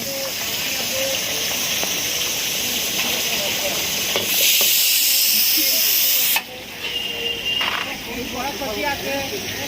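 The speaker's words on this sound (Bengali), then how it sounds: "মাছগুলো হলুদ লবণ মাখানোর পরে সুন্দর করে ফ্রাই করা হচ্ছে" Hilsa fish coated in turmeric and salt fries in hot oil at a riverside fish market, a steady loud hiss of sizzling that runs continuously, with a brief surge partway through and faint voices in the background.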